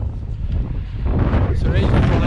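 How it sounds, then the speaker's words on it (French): Strong wind buffets the microphone during a long-distance cycling brevet ride near a river port, a steady low roar that swells and stays loud throughout, with faint hiss and rustle over it. "Le vent n'a pas faibli."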